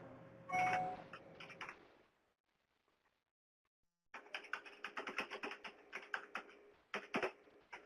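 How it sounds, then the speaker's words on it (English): Several people typing on computer keyboards, with quick clusters of clicky keystrokes, a pause of near silence, then a longer run of close, uneven tapping. "We have a couple more people typing"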